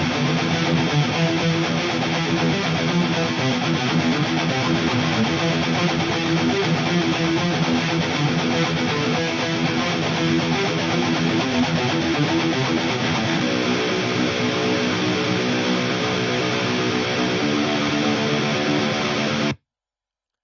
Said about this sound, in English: So the rhythm guitars alone sound like this.